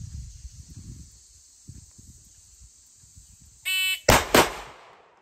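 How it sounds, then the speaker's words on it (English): Two sharp gunshots in a reactive shooting drill burst out close together near the end, after a steady high electronic beep from a shot timer, with soft background shuffling before them. "so there's two shots"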